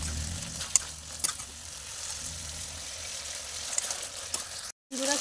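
Chicken sizzles in a pan alongside potatoes, a steady frying hiss with occasional clicks and stirring scrapes, cut by a brief dropout near the end.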